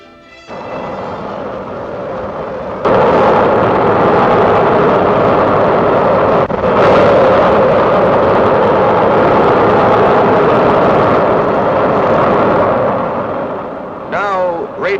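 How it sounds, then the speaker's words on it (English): A V-2 rocket launching at White Sands in 1947 gives a deafening, sustained roar that swells abruptly a few seconds in and holds loud and steady as the rocket climbs, fading slightly near the end. "The rocket is now 1 mile up. Its sound is still deafening to the ear."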